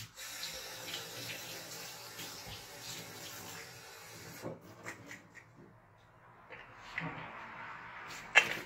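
Running water rinses a part from a Graco TrueCoat Plus II paint sprayer over a bucket, a steady splashing flow that thins and breaks up, ending with a sharp knock or clatter.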